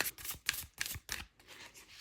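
A deck of tarot cards being shuffled by hand, several quick riffling bursts close up in a quiet room.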